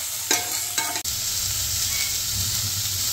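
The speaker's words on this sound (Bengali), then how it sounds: "চিকেনগুলো একটু সামান্য ভেজে নেব" Chicken pieces sizzle steadily in a hot pan as they are stirred, with a couple of scraping stirs near the start over a continuous close frying hiss.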